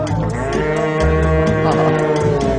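A cow moos in a long, loud, drawn-out call close by, its low bellow holding steady with slight wavering and no talk over it.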